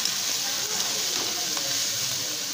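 Pieces of crab fry in hot oil with a steady, loud, dense sizzle that holds evenly throughout, with faint stirring beneath.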